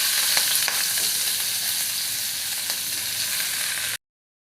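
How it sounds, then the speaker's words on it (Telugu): Green chillies and onions dropped into hot oil for an egg fry: a steady, bright crackling sizzle that holds close and even, then cuts off abruptly near the end. "ఆయిల్ వీటెక్కిన తర్వాత పచ్చిమిర్చి ఆనియన్స్ వేసుకోండి"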